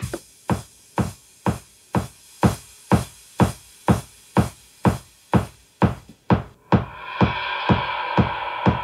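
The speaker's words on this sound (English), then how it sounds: "This one right here is starting with an intro that has a filtered kick in it." A steady four-on-the-floor kick drum thumps with a muffled, filtered tone, then brighter synth layers swell in near the end as the intro builds.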